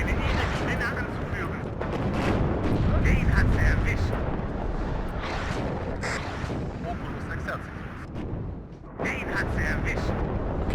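Artillery fire in the Cold War strategy game WARNO, set in a battle at Domazlice: a steady roar of explosions and battlefield rumble runs throughout with sharper blasts, while people talk over it.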